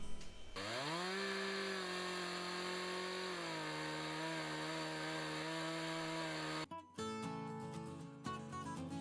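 A gravity-fed chainsaw mill cuts foundation beams from logs, its chainsaw engine revving up and holding a steady, loud whine under load for several seconds before dropping off near the end.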